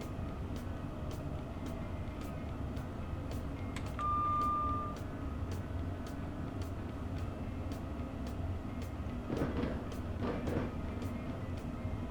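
Intercity train running along railway tracks in the Roblox game British Railway, a steady rumbling drone with regular clicking beats of wheels over rail joints, plus a brief tonal whine and a couple of louder bursts near the end.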